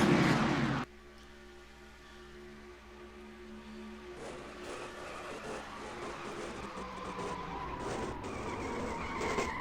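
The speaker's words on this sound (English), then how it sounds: "a wild crash coming to the end of lap number 15 here at Daytona" A loud burst at the start gives way to a racing engine's drone and tire skidding that builds into rough scraping and grinding near the end, from a video game race car crash at Daytona at night.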